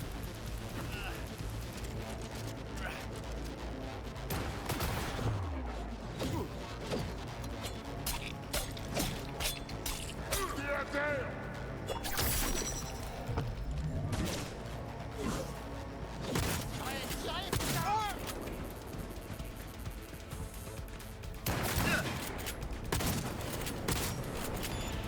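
Gunfire in the video game Cyberpunk 2077, with dense bursts of shots and impacts running throughout over a busy game soundscape, while a person talks over it.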